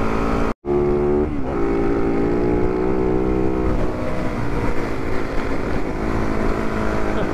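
A Yamaha WR450F dirt bike revs steadily on Fraser Island, its engine note holding a rising harmonic tone before dropping briefly as the rider shifts up a gear, then continuing at a lower, even drone.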